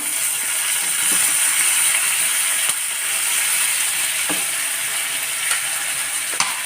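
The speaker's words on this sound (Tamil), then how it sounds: "இதெல்லாம் போட்டு நல்லா வதக்கிடுவோம்" Onion, curry leaves, green chilli and tomato sautéing in a pan for a ridge gourd gravy, a steady bright sizzle with occasional clicks of a stirring spoon, close and continuous without talk.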